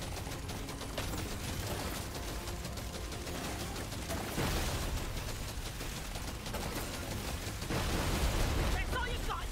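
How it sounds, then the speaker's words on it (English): Dense, continuous bursts of explosions and rapid gunfire from Deep Rock Galactic: Survivor, loud and sustained throughout with swelling blasts, while a voice talks over part of it. "That is a lot of explosions."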